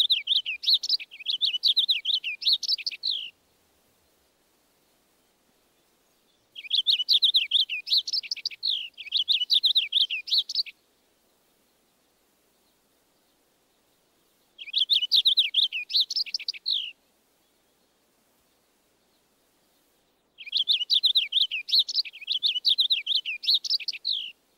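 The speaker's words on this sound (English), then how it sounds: "The purple finch song has a clearer tone, and although it lacks the heavily accented zree notes" Four separate phrases of a bright, warbling purple finch song, each a few seconds long with quiet pauses between, clear and close, some ending in a quick downward trill.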